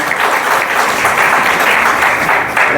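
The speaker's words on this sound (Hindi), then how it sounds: "जोरदार तालियां होनी चाहिए आप सभी की।" A crowd at a women empowerment seminar in Mangalore claps steadily and loudly for a few seconds, a dense, even wash of applause without pause.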